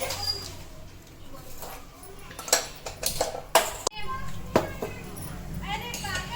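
A pot is set down on a home kitchen stove while raw mango kadhi is being made. A few brief metallic clanks and knocks sound close by, mixed with household clatter and talk.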